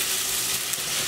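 Food sears in a frying pan on the stove, a close, loud, even sizzle of hot oil with faint crackling throughout the short moment, no voices.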